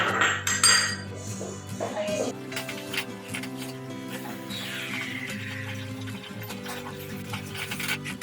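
Khoa is stirred into boiling milk in a pot for rasmalai, with clinks and scrapes of a utensil against the pot under a steady hum and background music, while a person talks over it.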